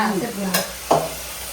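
Tomato and ginger sautéing in a pan for mutton curry, a steady close sizzle with two brief louder scrapes of stirring partway through.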